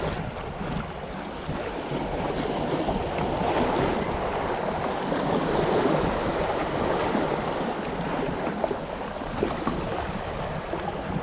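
Sea waves slap and splash against a small fishing boat during light rock fishing, a steady broadband wash with wind buffeting the microphone, loud and continuous throughout with no talking.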